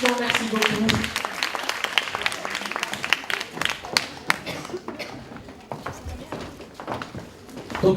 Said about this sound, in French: Allez, on continue de vos applaudissements, merci beaucoup.